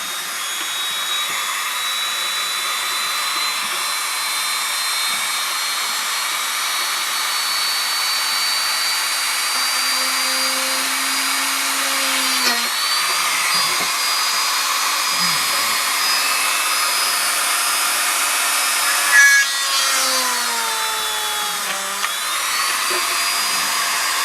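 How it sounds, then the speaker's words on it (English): A power drill bores a hole through a Clipper lighter, giving a steady, close whirring whine that runs almost the whole time, with brief pitch dips and small bumps as the bit bites. "Right, so I'll drill the hole now"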